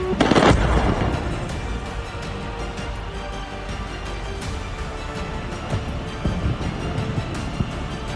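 A heavy blast booms out at the start in Venezuela during a US military attack, then a rumbling, crackling din continues with scattered sharper bangs in the distance.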